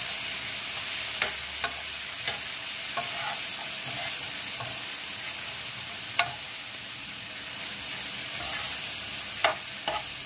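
Bitter melon (ampalaya) sautés in a pan with a steady, bright sizzle, while scattered sharp clicks and scrapes of stirring punctuate it.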